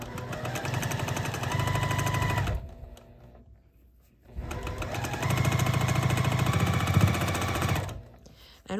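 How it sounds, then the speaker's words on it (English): A sewing machine stitches a quilt block seam for a churn dash pattern in two steady, close runs of rapid rhythmic stitching, separated by a brief pause. "And now I'm going to sew."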